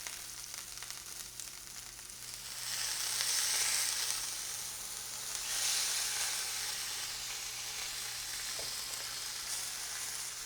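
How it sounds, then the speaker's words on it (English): Garlic fries in a hot pan for ramen, giving a steady, close sizzle that swells louder twice, with no talking. "I think you can see how the garlic is starting to char or get like crispy brown."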